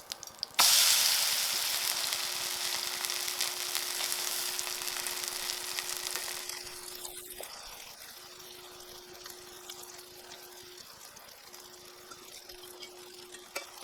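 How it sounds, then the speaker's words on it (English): A Korean pancake (jeon) fries in a pan with a bright, continuous sizzle that is loud at first, then settles into a softer crackle with a faint hum behind it. "fry it a little more."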